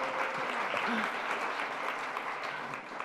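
Steady applause from an audience at a tech talk on JavaScript, MIDI and tiny computers in Colombia, an even crowd patter lasting about three seconds, with faint voices beneath it.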